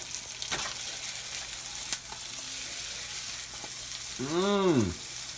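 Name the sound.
pierogi frying in butter in a pan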